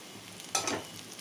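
Chilli powder frying in tempering oil with green chillies for a tindora fry, a brief soft sizzle and stir near the pan, faint and over in a moment.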